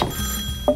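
A telephone rings in the video game Neighbours from Hell, a short electronic ring burst near the end of a brief moment of quiet game ambience, loud and close.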